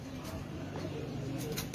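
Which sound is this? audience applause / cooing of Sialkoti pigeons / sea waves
cooing of Sialkoti pigeons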